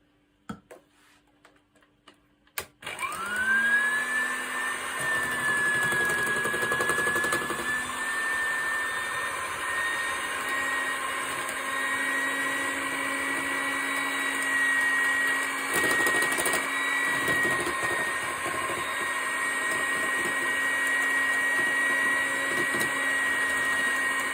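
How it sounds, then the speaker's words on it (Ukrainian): Electric mixer whipping egg white with apple puree for gelatin marshmallow, a steady high whine that starts after a few soft knocks and runs continuously, close and loud. "Після того, як я з'єднала пюре з білком, я продовжую збивати."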